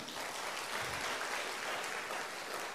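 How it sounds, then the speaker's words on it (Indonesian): Audience applause filling a hall at a product presentation, a dense steady wash of clapping held at an even level throughout. "Tepuk tangan untuk Atomy."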